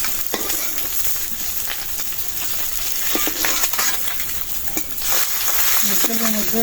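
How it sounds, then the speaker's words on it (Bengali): Sarputi fish fry lightly in oil with a steady, close crackling sizzle broken by sharp pops and scraping stirs, while a person talks over it. "আর এই যে সরপুটি মাছ হালকা ভাজছি এটা তরকারি রান্না করবো"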